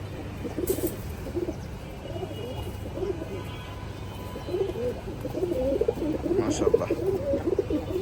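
Pigeons cooing at a pigeon show, Makhra Bagha khaki birds, soft repeated coos close by over a low background hum, growing busier toward the end.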